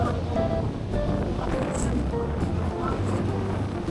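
Ocean surf rolls continuously at Kuta Beach in Bali, a gently sloping shore with many surfers, after strong winds; a steady broadband wash with wind buffeting the microphone and faint background voices.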